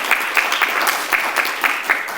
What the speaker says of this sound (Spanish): Por favor, los aplausos.